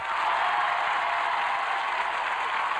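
A television studio audience applauds as a singer is introduced, a steady wash of many hands clapping at an even level with no voices on top.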